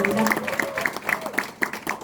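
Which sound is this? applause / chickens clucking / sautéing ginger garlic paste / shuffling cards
applause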